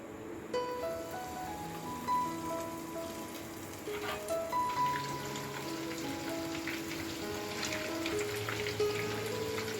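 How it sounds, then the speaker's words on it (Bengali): Pieces of paneer fry in hot oil over a gas flame, giving a steady, soft crackling sizzle that runs continuously and close by, with small pops scattered through it and no voices. "হালকা করে গ্যাসটাকে একটু বাড়িয়ে দিলাম, দিয়ে এগুলো ফ্রাই করে নিই"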